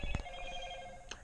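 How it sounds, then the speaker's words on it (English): A mobile phone rings faintly in the background with a brief, tonal electronic ring that sounds once, then fades behind quiet room noise. "that was my phone going off."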